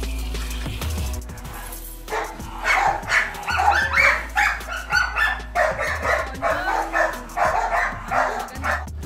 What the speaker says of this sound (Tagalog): Hindi natin matatanggi na magandang aso talaga si Kronos.